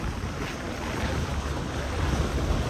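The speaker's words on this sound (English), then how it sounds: "We're having engine issues again. We have to go slow, but as long as we're going slow, it's moving." A boat with a faulty engine runs slowly through the Everglades, producing a steady low rumble blended with broadband wind and water noise that stays fairly constant throughout.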